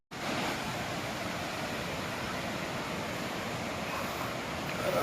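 Steady broadband rush of a mountain waterfall on the Amarnath trek, heard close from a small bridge crossing it, continuous and full without pauses or voices.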